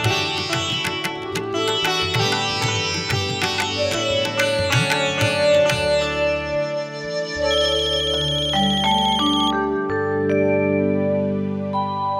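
A phone ringtone plays a bright, repeating melodic tune for an incoming call, loud and close, running continuously with no talk over it.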